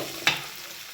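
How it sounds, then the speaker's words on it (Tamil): Potatoes sautéing in oil in a pan, giving a steady soft sizzle. A single brief stirring scrape stands out near the start. "ஒரு 10 நிமிஷம் ஒரு 1/4 மணி நேரம் நல்லா எண்ணெயிலே வதக்கணும்"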